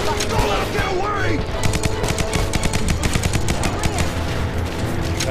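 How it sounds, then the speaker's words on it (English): Rapid SMG bursts fire in the Call of Juarez The Cartel video game, dense and loud with overlapping shots in quick rhythmic volleys, while voices shout briefly over the gunfire. "Nice shot. That SMG is pretty good."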